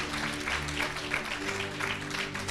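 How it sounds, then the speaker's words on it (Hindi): Congregation clapping loudly together at a church worship service, a dense rhythmic burst of applause with a faint low musical drone underneath. "एक बार जोर से ताली बजा के प्रभु को धन्यवाद दें।"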